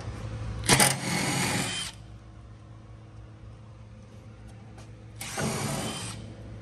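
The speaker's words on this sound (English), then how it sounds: "And then he's plug welding." Plug welding on a 1955 car body panel during bodywork and panel fitting: two separate bursts of harsh crackling buzz, each about a second long, with a quiet shop hum between them.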